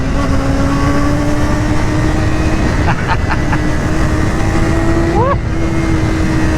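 A Honda CBR600RR motorcycle engine holds a steady, screaming high-pitched tone, dips briefly, then climbs again in a rising rev, with a few sharp clicks in the middle.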